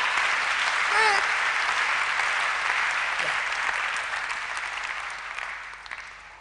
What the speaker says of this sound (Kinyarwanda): I thought neza. that you were going to clap for God